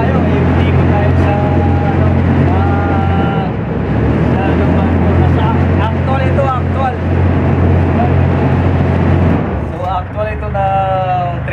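The engine of a rescue boat runs loud and steady during cruise ship survival craft training, droning close by throughout while people talk over it.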